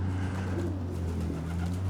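Racing pigeons coo softly and continuously inside a netted loft, a low, murmuring chorus over a steady background hum.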